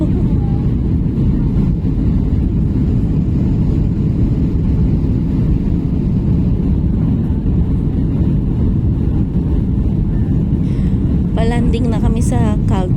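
Steady, loud airliner cabin roar fills a one-hour flight as it descends toward landing at Calgary, a constant low engine drone throughout, with a brief voice near the end.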